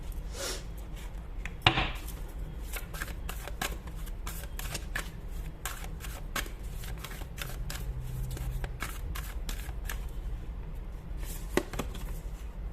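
Tarot cards being shuffled by hand, a steady stream of soft riffling flicks and taps with a sharper slap near the start, close and fairly quiet over a low background hum.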